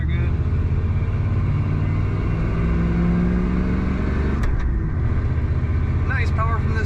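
A 1992 Ford F-250 XLT 4x4 pickup accelerates on the road, its engine a steady loud drone from inside the cab with a rising tone, while someone talks over it.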